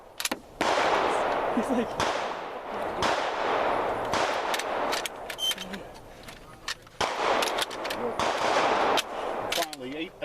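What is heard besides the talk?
gunshots at a shooting range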